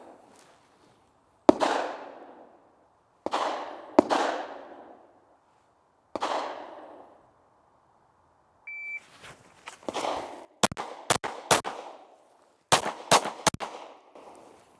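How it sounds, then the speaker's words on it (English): Handgun shots fired one-handed at a target on a range, sharp loud cracks close by, first spaced singly, then after a timer beep coming in quicker pairs and bursts with short gaps. "So first shots of the day. Let's see how we can do single hand only."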